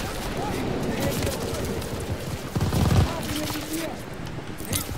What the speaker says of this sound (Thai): โอเคมันยิง MG กระหน่ำมานะฮะ